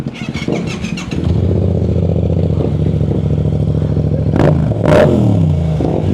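A 2021 motorcycle engine cranks with a starter clatter, catches and settles into a loud, steady idle, then is revved sharply twice near the end.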